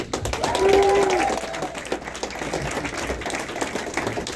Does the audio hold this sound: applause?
yes